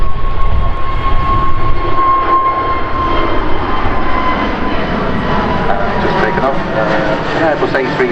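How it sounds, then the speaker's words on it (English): A British Airways Airbus A320-200neo jet at Manchester Airport gives a loud, steady engine roar with a rising whine, heard under continuous talking. "Airbus A320-200neo belonging to British Airways"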